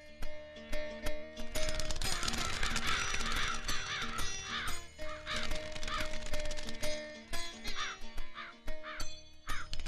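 Crows cawing repeatedly in harsh bursts outdoors, fairly close and loud, over a busy, noisy background.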